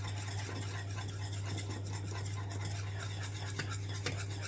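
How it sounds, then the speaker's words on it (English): A thickening bread mixture is stirred continuously in a pan on the heat, giving a steady scraping and swishing with faint utensil clinks over a constant low hum. "So just constantly stirring this till it's nice and thick"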